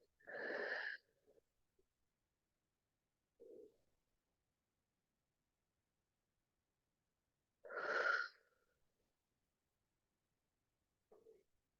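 Someone in yoga relaxation breathes out through the mouth in two soft, breathy exhalations about seven seconds apart, with faint shorter breaths between them in near silence.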